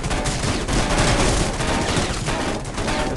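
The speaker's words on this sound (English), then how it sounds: "I'm trying to move and shoot with the AK." AK rifle gunfire in the Rules of Survival game, a steady, loud stream of rapid automatic shots with no pauses, set against other battle noise.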